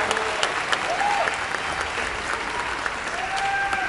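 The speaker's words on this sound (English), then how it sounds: "Give a big round of applause." A large audience at a Star Wars Galaxy's Edge presentation applauds Warwick Davis, a broad sustained wash of clapping from a big crowd, steady and full throughout.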